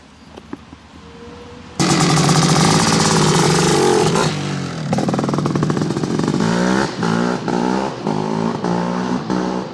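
A works KPR Racing Kawasaki KX500 two-stroke motocross bike snarls loudly at speed, bursting in and revving hard in repeated surges as the rider shifts and blips the throttle, close and alone.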